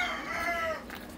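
Poultry at a farm where hens are being chosen, with a close rooster-like crow and clucking in one brief, loud burst.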